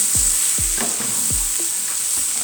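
Cabbage frying in olive oil in a pan, a steady bright sizzle running throughout with several low thumps and scrapes from stirring, with no talk.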